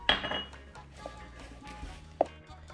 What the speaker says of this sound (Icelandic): Næsta skref er að blanda öllu sem við erum búin að setja með sleif